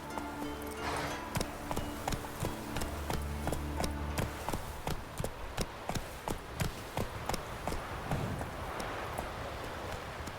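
A horse gallops in the Witcher 3 video game, with steady, rhythmic hoofbeats sounding close over a rustling, windy outdoor bed for the whole stretch.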